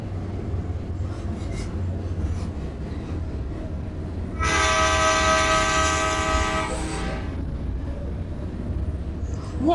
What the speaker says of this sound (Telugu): దగ్గరకు వచ్చాం గైస్ రైల్వే స్టేషన్కి